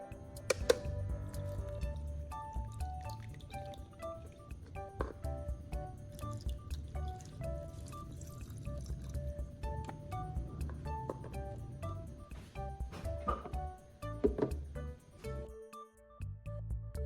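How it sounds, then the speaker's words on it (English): Clean water is poured through a funnel into the compartments of a car battery, producing close, steady trickling and dripping with small splashes and gurgles that stop briefly before the end. "Using a funnel again, I fill each compartment with this clean water."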